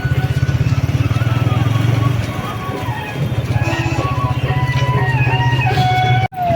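A motorcycle riding through the Maha Kumbh grounds near the Sangam, its engine thrumming steadily and close, with a throaty, pulsing drone that dips briefly near the end.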